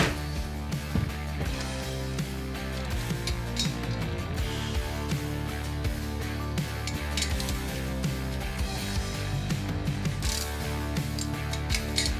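A ratchet works hard to break stubborn bolts loose on a machine coated in burnt oil, giving a steady, close metallic clicking and grinding mechanism sound that runs continuously without talk.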